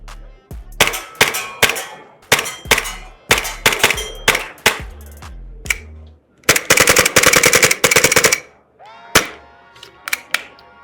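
A VFC L403A1 gas airsoft rifle with a red dot sight fires loud, sharp bursts and rapid strings of shots, each with a metallic clang, separated by brief pauses and ending in a few single shots, with no voices.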